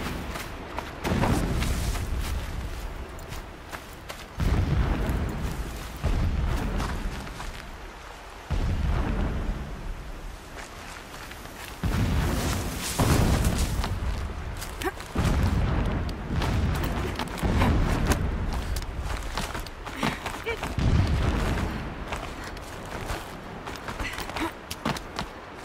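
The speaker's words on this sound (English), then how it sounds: "Explosions in the distance." Distant explosions in the video game Horizon Zero Dawn, a series of deep, rumbling booms at irregular intervals, each swelling and fading, over a low continuous background.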